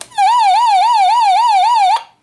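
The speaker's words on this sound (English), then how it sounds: "a siren, so if you're stuck in the woods, the siren might help you" The built-in siren of a Degen DE13 solar crank radio sounds loud and close, a steady electronic warble that wavers rapidly up and down for about two seconds before cutting off abruptly.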